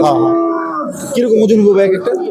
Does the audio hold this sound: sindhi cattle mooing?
yes